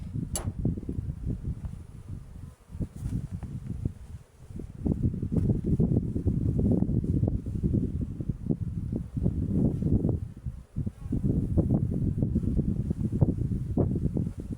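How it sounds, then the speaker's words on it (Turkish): Gusty wind buffets the microphone in low, rumbling surges that rise and fall, loud and close, with no speech. "Hava rüzgarlı."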